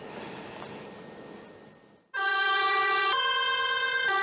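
An ambulance siren suddenly blares up close after a quieter stretch of background noise, loud and steady, stepping between tones.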